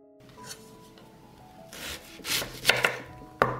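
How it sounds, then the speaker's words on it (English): A knife chops onion and celery on a board in a few scattered, uneven cuts and scrapes, fairly close and moderately loud, with sharper knocks near the end. "I will cut 1 onion and 2 sticks of celery."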